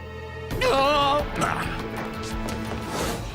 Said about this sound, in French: vous allez lâcher les chiens. et ils sont affamés